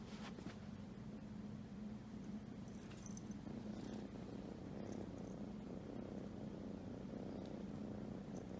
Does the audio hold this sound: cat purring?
yes